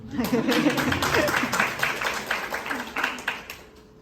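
An audience claps and applauds steadily for a few seconds, the sound tapering off toward the end, with some voices mixed in.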